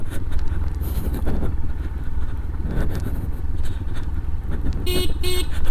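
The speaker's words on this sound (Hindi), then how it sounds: "हॉर्न तो बहुत ही ज़्यादा डिसेंट है, डिसेंट हॉर्न है" A Yamaha FZ-X motorcycle horn gives two short, bright honks near the end. A steady engine and road rumble runs underneath throughout.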